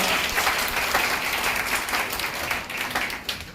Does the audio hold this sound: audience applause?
yes